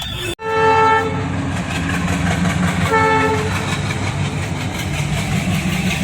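A train passes loud and close with a long blaring horn, its heavy rolling rumble filling the whole stretch, along a railway line in village India.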